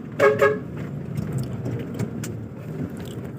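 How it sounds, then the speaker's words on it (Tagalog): A Mustang car horn gives two quick loud honks at the start, followed by the steady low hum of traffic and engine noise. "nice po ng busina."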